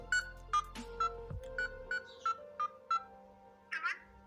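A mobile phone keypad beeps out a number during a call to Vi customer care: a rapid, even series of about nine short tones, each crisp and close, with faint room sound between them.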